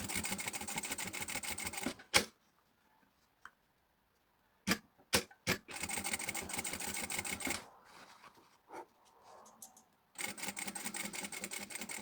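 A sewing machine stitches a seam along bias binding in rapid mechanical bursts, running fast, stopping for quiet gaps with clicks as the fabric is adjusted, then running again, loud and close.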